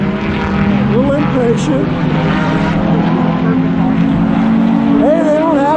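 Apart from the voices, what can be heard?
race cars racing in the snow, including a Mazda Miata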